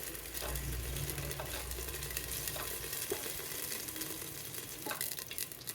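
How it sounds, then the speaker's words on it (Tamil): Bay leaf, star anise, cinnamon and cardamom frying in oil in a pot for chicken biryani, a steady close sizzle with occasional stirring scrapes and small pops. "ஒரு பிரியாணி இலை, அன்னாசி பூ, பட்டை, 4 ஏலக்காய் எண்ணெயில் வதங்கட்டும்."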